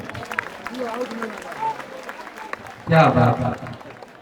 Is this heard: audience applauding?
yes